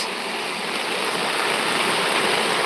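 Dense, loud, unbroken roar of heavy rain in a farming village in Gujarat, a steady wash of noise with no talking.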